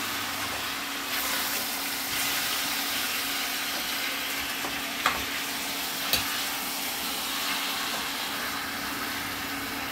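Chicken pieces marinated in turmeric and ginger-garlic paste, half-fried in a pan, give off a constant, even sizzle up close, with a couple of faint knocks and no talking.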